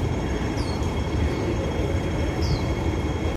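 A train sounds at a railway station on a clear morning, producing a continuous loud rumbling roar with faint high squeals of wheels on rails.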